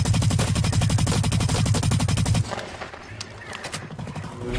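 Rapid automatic gunfire from Blacklight: Retribution, a loud steady burst of fast rhythmic shots for about two seconds, then quieter scattered in-game shots and noise.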